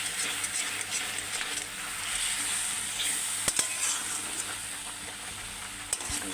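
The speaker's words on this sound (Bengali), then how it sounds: "এবার ক্রমাগত নাড়তে থাকবো।" Mango and sugar cook in a pan under constant stirring, giving a continuous close hiss and sizzle with a couple of brief scraping clicks.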